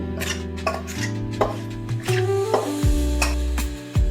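A spoon scrapes and clanks around a metal bowl as roasted semolina and coconut filling for karanji is mixed, a steady series of close, loud knocks and scrapes with no talking.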